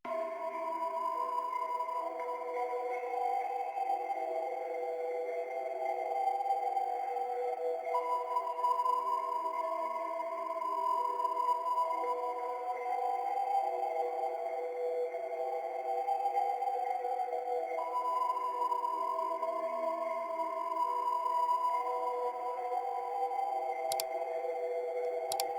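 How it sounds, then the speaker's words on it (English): A looped ambient texture sample from Splice, cut up in FL Studio, hums as a soft, steady, sonar-like tonal pad with slowly shifting drones that repeat seamlessly, with no voices. "I cut up the ambience and I looped it, and this is what it sounds like"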